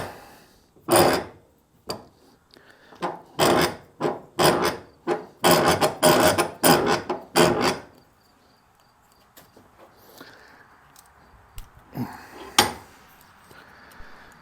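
A hand file rasps across a Yanmar 221 mower blade clamped in a vise, with about a dozen firm, evenly spaced strokes close by, followed by quieter scraping and a couple of final strokes.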